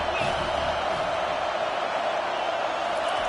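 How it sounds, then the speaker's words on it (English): Loud, sustained roar of a packed stadium crowd cheering at a college football video game, a dense wash of voices holding steady throughout. "this crowd is turning it up a notch"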